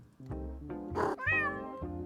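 A house cat meows several times in a row, each call drawn out with a rising, whiny pitch, heard up close and clear with no talking over it.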